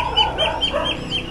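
Chickens cluck at home in a steady stream of short, choppy calls, fairly loud and close, with no talking over them.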